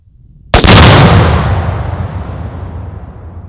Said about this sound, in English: we're gonna blast this, blow up this hay bale.